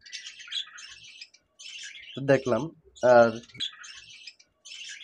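Small caged birds in a home bird farm chirp and tweet in quick, high bursts throughout, close by, while someone talks briefly in the middle.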